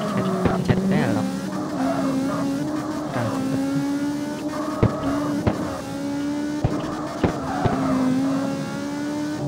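Game car drifting in CarX Street, with a steady engine drone that rises and falls and tire squeal through the slides, plus sharp impacts, and a person talking over it.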